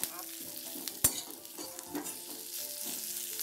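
Onions sizzle steadily in a hot pan for a dhaba-style egg curry, with a spoon stirring and scraping through them and one sharp clatter partway through.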